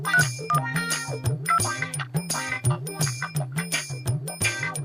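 A phone ringtone plays loudly and repeatedly, a tinkling, bell-like melody with a steady rhythmic pulse, close and alone with no talk.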